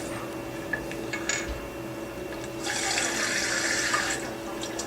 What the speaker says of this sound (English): we're going to drain half of the water from the water tank. Just loosen up this drain hole.